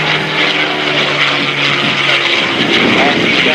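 A P-51D Mustang named Quicksilver flies at the 2016 NAS Oceana Airshow, its propeller engine a loud sustained roar that swells toward the end, with a voice talking over it.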